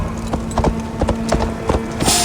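Horse hooves clip-clop at a steady walking rhythm in the Assassin's Creed Valhalla video game, fairly close and distinct over a low ambient game backdrop with no talking.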